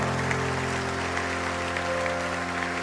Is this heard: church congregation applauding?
yes